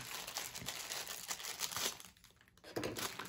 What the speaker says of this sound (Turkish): Bunu da jelatininden çıkartalım.